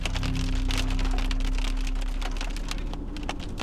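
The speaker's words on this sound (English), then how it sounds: "You could say that there was some hail in it." Dense, irregular tapping and pinging of hailstones striking a vehicle during a tornado storm near Kit Carson, Colorado, loud and close, with a low engine drone underneath.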